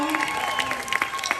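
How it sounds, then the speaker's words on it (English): An audience at a Mickey Mouse Club charity concert at Disney Springs in Orlando breaks into scattered clapping, with a voice talking over it for the brief moment. "So give him a round of applause."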